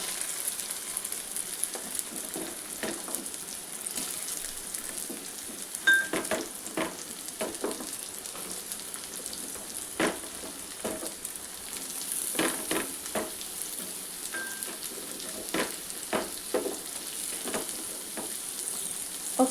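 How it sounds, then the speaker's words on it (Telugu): Onions and bottle gourd pieces fry in a pan for a sorakaya curry, giving a continuous close hiss of sizzling oil broken by repeated scraping stirs. "ఇప్పుడు ఈ ఉల్లిపాయలన్నీ వేగిపోయాక మనము ఇందులో సొరకాయ ముక్కలు యాడ్ చేసుకుందాం."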